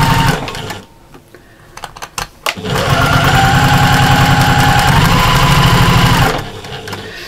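A sewing machine stitches a fabric seam on a scrap cushion with binding, starting with a quick back stitch, then running loud and steady for several seconds before stopping, with a few faint handling knocks beforehand.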